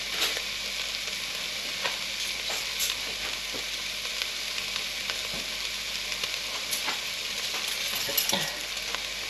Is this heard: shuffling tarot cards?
no